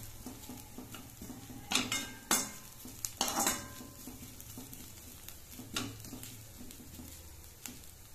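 Onions sizzle and fry in a pan for a samosa-style snack of wheat flour and semolina, with a steady hiss under scraping stirs and a few sharp clinks of a utensil against the pan.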